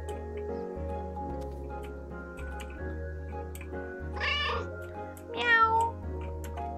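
In the video game Calico, a calico cat meows twice in quick succession over steady, looping game music, the second meow a little louder.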